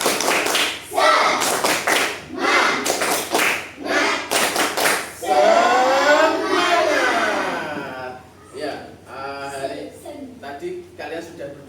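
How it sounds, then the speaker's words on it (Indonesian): A primary school class claps together in a brisk, patterned spirit-clap rhythm of quick bursts and pauses, then voices follow, chanting and talking. "Tepuk semangat."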